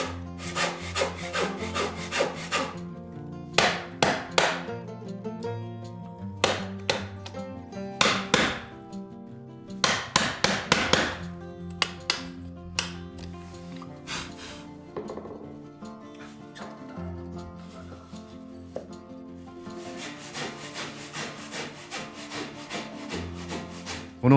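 A carpenter saws and works old wood for a replacement entrance step, with bursts of rasping back-and-forth saw strokes, scraping, and occasional knocks, close and loud, interrupted by short pauses.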